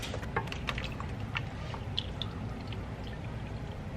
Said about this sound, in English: I do add hot water just from my sink